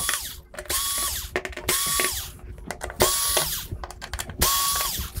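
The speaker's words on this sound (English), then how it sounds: "Now all we gotta do is get the screws out and the board should be free." A power screwdriver whirs in repeated short bursts, four runs with pauses between, as screws come out of a Samsung UN46D6000SF television main board, close and fairly quiet with no talk.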